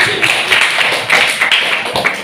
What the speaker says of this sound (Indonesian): tepuk tangan untuk Trifani.